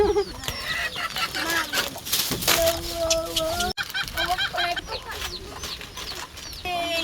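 Several chickens cluck and squawk close by in a busy, overlapping chorus, with a brief rooster-like call partway through.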